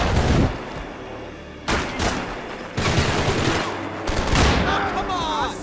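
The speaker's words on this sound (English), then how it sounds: "Put one in his head. Shoot the fucker!" Gunfire from the video game Max Payne 3, several bursts of shots and booms in a firefight, loud and punchy with short gaps between volleys, under shouted in-game voices.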